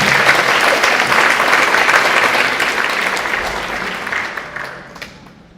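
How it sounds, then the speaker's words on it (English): An audience at a live Arangetram dance recital claps steadily in sustained applause, loud at first and then gradually thinning and fading out. "I just wanted to give one more round of applause for Nidhi."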